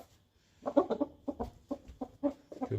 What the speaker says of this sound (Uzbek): Mana jo'jam yaxshi